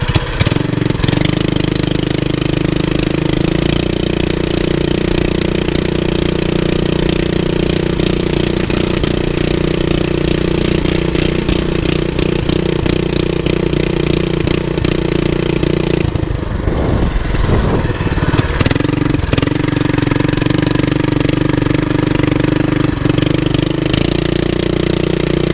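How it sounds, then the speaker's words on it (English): A Predator 212 engine swapped into a Chinese ATV runs loud and close at full throttle, a sustained steady drone with a brief dip mid-way as it hits the rev limiter, then resumes. "When it hits the rev limiter, it wants to cut out 10 miles an hour."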